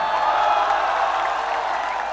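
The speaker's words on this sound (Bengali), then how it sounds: "ও এই তো, একটা জোরে হাততালি।" A concert audience at a show claps and cheers, a dense, continuous wash of applause filling the short stretch at an even, loud level.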